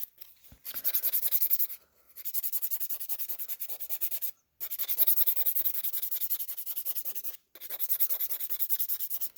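Nail file rasping across fingernails held in the non-dominant hand, close and crisp, in repeated rhythmic bursts of quick back-and-forth strokes separated by short pauses.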